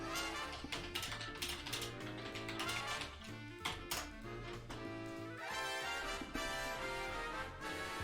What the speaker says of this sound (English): you're picking up mouse clicking